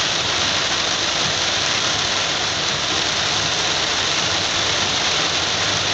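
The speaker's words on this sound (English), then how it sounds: "Except for right now while it's downpouring." Heavy rain pours down on a vehicle, heard from inside as a loud, steady wash of noise with no break throughout.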